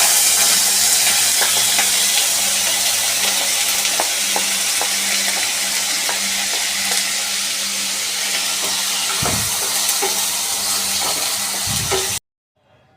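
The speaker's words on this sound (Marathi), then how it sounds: "हे बटाटे जे आहेत ना हे तेलामध्ये व्यवस्थित फ्राय करून घ्यायचे" Finely chopped, washed potatoes sizzle and crackle steadily in a spoonful of oil in a pan, a loud continuous fry with occasional stirring scrapes, cutting off abruptly near the end.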